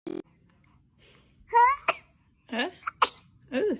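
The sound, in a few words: baby sneezing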